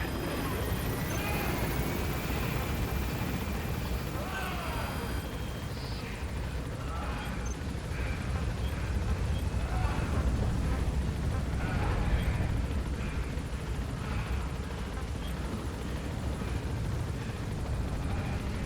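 Continuous helicopter rotor and engine drone from Metal Gear Solid V: The Phantom Pain as the aircraft gains altitude, a dense steady rumble heard up close under faint talk.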